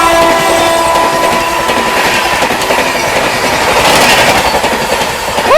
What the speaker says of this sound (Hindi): 20839 रांची नई दिल्ली राजधानी आती हुई पीछे से अपनी अमृत भारत एक्सप्रेस को ओवरटेक करने भाई पूरी रफ्तार में आ रही है